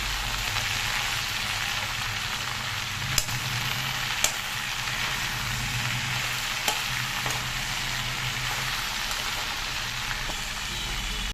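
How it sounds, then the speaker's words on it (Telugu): Okra frying in a pan gives a loud, continuous sizzle and crackle with a few sharp utensil taps scattered through, with no voices. "ఫ్రై అండి, బెండకాయ వేపుడు."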